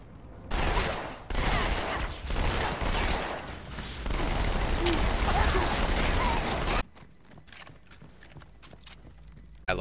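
Rapid SMG bursts in a Halo firefight rattle loudly across several seconds, separated by brief pauses, then cut off abruptly to quiet background ambience.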